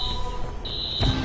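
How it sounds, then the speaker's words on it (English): In the Watch Dogs game, a tripped alarm sounds as a high, steady electronic beeping tone that cuts out briefly and resumes, with a low thump near the end. "Alarm's been tripped."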